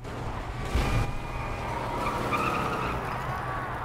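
Car engine running with tyre skids in the Mad Max video game, a steady vehicle drone with a brief louder burst of skidding near the start, continuous and fairly close.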